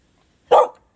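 A dog barks once on command, a single loud, close bark against a silent background.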